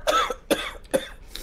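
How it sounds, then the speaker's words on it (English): Three loud coughs come from one person close to the microphone, evenly spaced about half a second apart, with quiet between them. "I'm sorry, I'm coughing loud."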